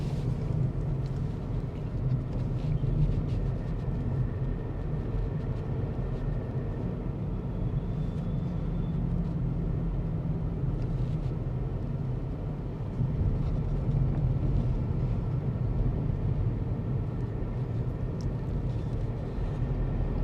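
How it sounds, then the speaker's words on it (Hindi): A VW Virtus 1.0 TSI with manual gearbox pulls steadily in fourth gear at low revs, a continuous low engine and road drone inside the cabin with tyre roar, holding even for the whole stretch with no talk. "कम पावर में ही मैं 4थे गियर में पुल कर रहा हूँ, and it's pulling like very briskly, no power lag whatsoever."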